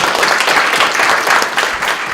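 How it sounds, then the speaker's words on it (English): Dense audience applause fills a city meeting hall as a crowd claps steadily and loudly without a break. "Paul, let's give Paul a round of applause."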